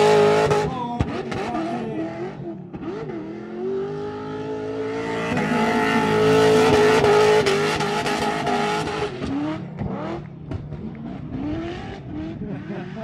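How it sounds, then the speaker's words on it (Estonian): A car being driven, its engine revving up and down through gear changes with a rising, strained tone and a faint tire squeal, loud and close throughout. "Me võime siia ühe klipi ka panna sellest autost, kuidas see auto sõidab."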